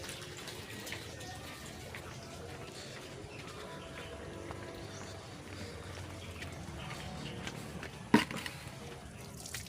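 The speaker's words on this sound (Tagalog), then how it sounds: "so ito buha na tayo ng tubig na sa balon." Well water pouring into a container for goldfish breeding, a steady watery rush that runs throughout, with one brief louder knock near the end.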